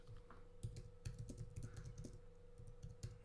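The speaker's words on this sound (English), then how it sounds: "Maybe let's just type in Mark of the Beast" Fingers type a search on a computer keyboard, producing a quick, uneven patter of soft key clicks close by over a faint steady hum.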